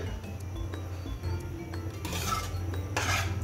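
A spoon scrapes and clinks against a pot while egg biryani is stirred, producing steady nearby rubbing with louder scraping bursts toward the end over a low background hum.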